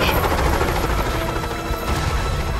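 A helicopter in the Monsters vs Aliens video game roars as a steady, loud, dense rotor and engine drone, filling the whole moment without any voices.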